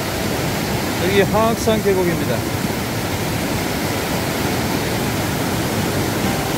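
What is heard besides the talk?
water cascading over boulders in Hwaaksan valley stream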